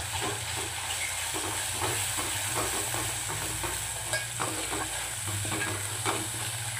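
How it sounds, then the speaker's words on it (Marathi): A paste of ground poppy seeds and coconut sautés in hot oil, giving a steady, even sizzle and hiss with faint stirring scrapes throughout and no voices. "छान याला तेलामध्ये परतून घेऊया."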